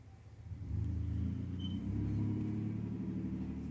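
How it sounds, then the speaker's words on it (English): A motor vehicle passes by outdoors: a low engine rumble swells, holds steady, then lingers, heard faintly at a distance with no talking. "Oh, somebody riding by."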